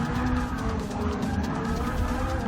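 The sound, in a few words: Subaru BRZ braking and skidding in Forza 6 video game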